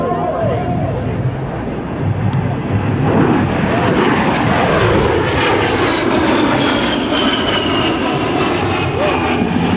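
An A-10 Thunderbolt II jet roars loudly through a rolling demonstration at a military open house, its engine tone sweeping and shifting as it passes, with an announcer talking over it.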